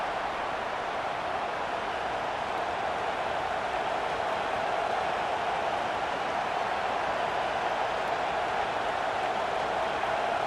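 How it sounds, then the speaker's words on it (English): A stadium crowd in the College Football 25 video game roars on third down, a dense, steady wash of cheering noise that holds at constant loudness throughout. "Decibels rising as the crowd gets behind this defense on 3rd down."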